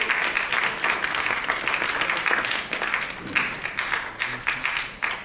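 Audience applause at an awards event for a singer, a sustained crackle of many hands clapping with slight surges, steady and moderately loud throughout.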